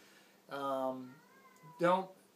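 A cat meows twice, a long drawn-out cry followed by a shorter one, fairly close and clear against a quiet background.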